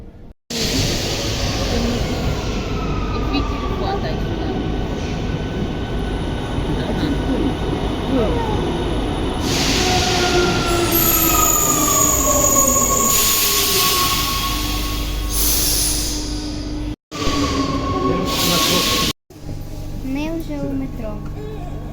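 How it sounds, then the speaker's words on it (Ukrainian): Steady loud rumble and rattle of a metro train in motion in Italy, with wheels squealing and brief hissing, occasional announcements and voices faintly beneath, two short dropouts near the end. "Ми будемо їхати зараз в метро."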